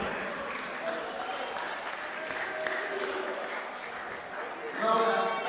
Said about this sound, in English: that smattering of applause is usually indication it's time to close this up